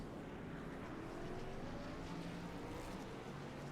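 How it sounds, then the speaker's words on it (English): Retro race trucks at Martinsville firing up their engines, a low, steady mechanical drone heard faintly and at a distance, with rising tonal whine from several engines blending together. "Gentlemen, start your engines!"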